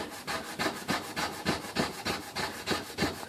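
A yucca stalk blade is rubbed back and forth against a yucca base to warm it, giving a steady, rhythmic scraping drone of about three strokes per second, close by with no talk.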